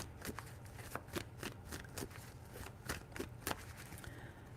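Tarot cards are shuffled by hand in a run of quick, repeated riffling bursts, close and fairly quiet, with no talk.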